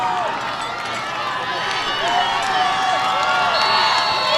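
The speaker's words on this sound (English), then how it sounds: "Listen to this crowd." A crowd at an opening-night high school football game roars in a steady, loud wash of cheering and whooping, with a commentator talking over it.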